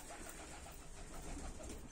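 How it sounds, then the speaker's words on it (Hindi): Continuous low cooing of pigeons in a pigeon loft over a steady, noisy background, fairly close and unbroken for the whole moment. "ये मेरा सबसे पुराना कबूतर है"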